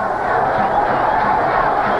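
A crowd in the 28 September stadium cheers in a steady, loud roar of many voices, with no single voice standing out.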